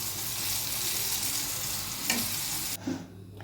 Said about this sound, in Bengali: ডিপ ফ্রাই করে নেব।